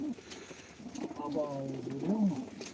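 Pigeons coo in soft, rolling low notes close by, with a few quieter calls around them and people talking faintly in the background, at a live pigeon auction in Sivas.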